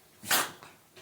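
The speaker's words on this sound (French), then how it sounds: "mon chien s'est invité à la partie en même temps" A pet dog gives a single loud, close bark that trails into a fainter second yelp, then a brief, softer noise; no talking.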